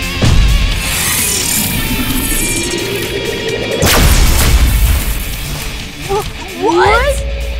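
A cartoon Power Missile attack explodes in a dinosaur trainer battle, with heavy booming crashes and a sweeping whoosh under loud music and effects, then a brief creature cry near the end.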